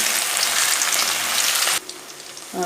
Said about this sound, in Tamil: இப்போ வந்து நல்லா ஃப்ரை பண்ணலாம்.